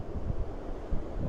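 Strong wind gusting outdoors in an orchard in the Northeast, a steady low rumble buffeting the microphone with uneven surges throughout.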